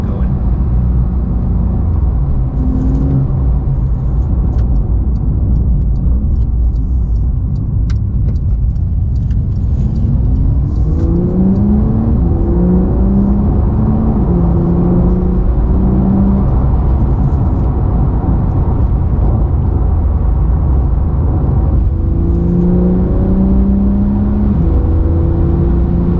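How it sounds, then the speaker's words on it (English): A Porsche 992 without the sports exhaust, driven in sport mode, pulls through the gears with a steady engine drone and rising whirring sweeps as it revs and shifts, heard from inside the cabin over constant road noise. "you'd be able to hear the engine as I crank through that in sport there"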